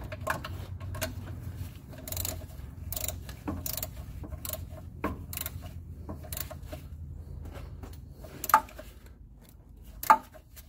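A socket ratchet tightening a bolt on a 390 FE starter of a 1976 F250, a rapid series of close mechanical clicks and ticks in uneven bursts, with a couple of sharper metallic knocks.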